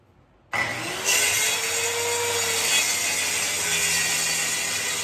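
A track saw cuts through a maple and epoxy tabletop. The blade starts abruptly and then grinds steadily and loudly for several seconds, close by, with no talking.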